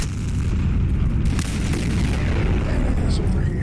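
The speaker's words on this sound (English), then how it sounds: "I'm gonna throw a couple grenades in that direction now." Grenade explosions in heavily modded Fallout 4 gameplay, a loud, continuous rumbling blast with dense low-end boom sustained throughout, with a couple of sharper bursts layered on top.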